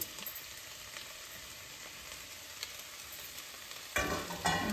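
Red bell pepper and carrot being mixed in a frying pan, a faint continuous sizzle with light stirring scrapes, growing louder near the end.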